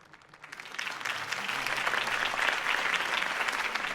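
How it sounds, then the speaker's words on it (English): Crowd applause for a campaign speech by Harvey Dent, a broad, dense clapping that swells in after a brief quiet start and holds steady and full, with no talking over it. "could have heard that applause"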